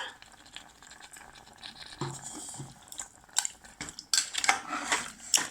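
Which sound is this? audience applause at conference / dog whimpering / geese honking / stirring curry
stirring curry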